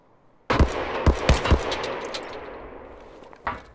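Gunfire in Escape from Tarkov: a sudden loud burst of four or five sharp, close shots in quick succession, then a fading tail and one more isolated shot near the end.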